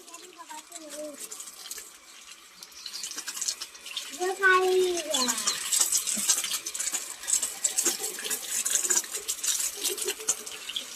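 Water rushes out in a steady, hissing pour over plants after a brief stretch of talking, continuing fairly close and moderately loud to the end.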